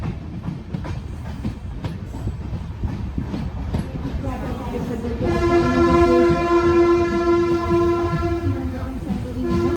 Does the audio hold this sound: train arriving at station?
yes